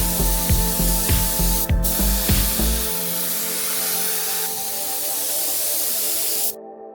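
Automotive paint spray gun spraying car paint, a loud continuous hissing blast close by, with a few rapid mechanical clicks at the start and the spray cutting off abruptly near the end.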